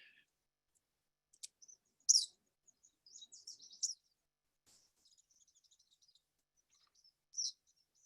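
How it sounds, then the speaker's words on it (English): An eastern kingbird, a flycatcher, gives thin, high, sputtering chirps and twittering calls in short scattered bursts, faint against an otherwise quiet outdoor background. "This is an eastern kingbird. This is in the flycatcher family."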